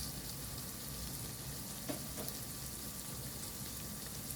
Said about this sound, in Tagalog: Ayan, gisang-gisa na nga siyang maigi.